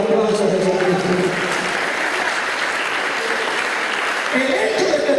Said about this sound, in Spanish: ¿Cuándo le dará un aplauso a Jesucristo?